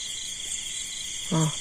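Frogs calling in darkness after rain: a steady high insect chorus fills the air, and a single short, low croak sounds close by near the end.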